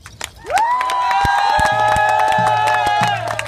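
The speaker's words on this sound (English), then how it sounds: "give a big round of applause to the Apache Stronghold" A rally crowd at the US Capitol cheers and claps for the Apache Stronghold convoy, with sustained whooping and a long ringing tone rising over the clapping, loud and close.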